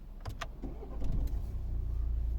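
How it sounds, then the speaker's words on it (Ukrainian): A 2011 Volvo V60 with a 1.6 D2 diesel engine and 254,000 km on it is started by push button: a few clicks and a brief crank, then the engine settles into a steady low idle rumble. "Заводиться от з кнопки."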